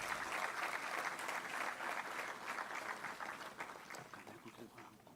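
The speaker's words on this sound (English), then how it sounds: "An incisive presentation such as that deserves a better round of applause" Audience applause following a ministerial presentation of a national budget, steady dense clapping heard faintly at a distance with some voices mixed in.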